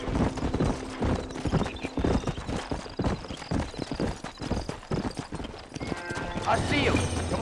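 Wild mustang horses galloping in Red Dead Redemption, fast close hoofbeats drumming continuously with whinnies near the end, while a person talks over the action.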